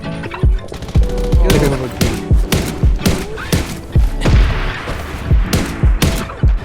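Rapid bursts of gunfire in the video game Undawn on Radiation Island, loud sharp shots repeating in quick irregular volleys with heavy thumps, under a busy game soundscape.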